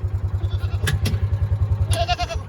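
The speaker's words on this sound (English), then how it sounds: "We're gonna wait here and call the goats down" Goats on a farm near grazing cows give short bleats over a loud, steady low pulsing engine chug, the calls brief and sitting on top of the rhythmic idle.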